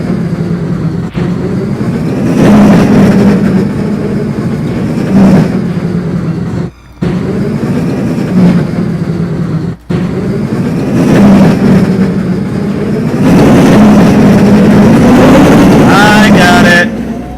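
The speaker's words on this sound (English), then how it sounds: "I apologize if the engine sounded way too loud." In the video game Quantum Conundrum, a loud engine gives off a heavy, sustained rumble. It swells and eases over time and cuts out briefly twice.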